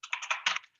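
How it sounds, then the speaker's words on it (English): Quick keystrokes on a computer keyboard picked up by a meeting microphone, five or six sharp clacks in a rapid cluster lasting under a second, close and fairly loud. "this is a keyboard and that's really loud"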